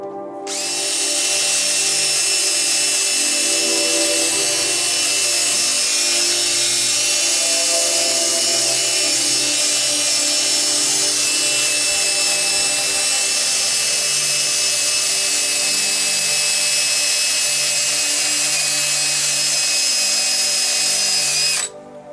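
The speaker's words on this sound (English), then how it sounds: "Time for some sanding." Sanding turned red cedar on a lathe, a continuous loud whir with abrasive rubbing, steady for about twenty seconds with no talking.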